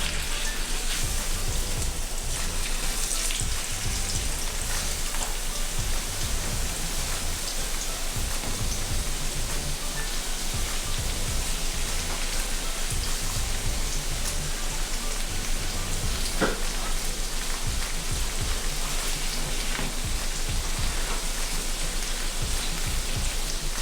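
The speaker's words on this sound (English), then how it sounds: "So we're gonna go ahead and add our shrimp in now." Seasoned shrimp sizzle in a hot skillet, giving a constant crackling hiss like rainfall that stays steady and fairly loud throughout, with occasional faint low thumps and no talking.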